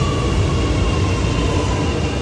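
Buenos Aires subway train heard up close in a station: a loud, continuous roaring rumble with steady whining tones running through it, filling the whole stretch.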